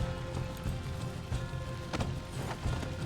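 Horses galloping in the Red Dead Redemption 2 video game, a steady run of hoofbeats with rumbling low-end movement, moderately loud and continuous with no talk.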